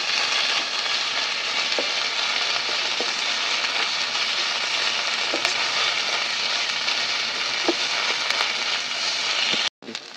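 Spices with mustard paste for shukto frying in a pan make a dense, even sizzle and hiss that runs continuously and loudly, with a few faint stirring taps, until it cuts off abruptly.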